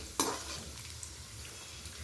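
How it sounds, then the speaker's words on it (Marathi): Soft, steady sizzling of cashews frying in oil, with a brief scrape of a stirring utensil near the start; no voices. "काजू हे तर तेलामध्ये थोडेसे फ्राय करायचे एक मिनटं"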